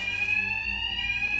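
Bank alarm in the video game Batman: Arkham Knight, a continuous high electronic alarm tone ringing steadily without a break, loud and alone with no talking.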